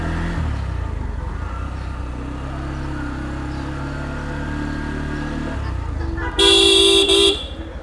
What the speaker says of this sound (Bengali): এরপর হচ্ছে কি এর হর্ন, নাইস একটা হর্ন ইউজ করছে আপনার